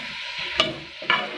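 Cauliflower frying in a pan for a Pakistani gobi gosht, with two distinct bursts of scraping as it is stirred over a steady soft sizzle, close and loud, with no voices.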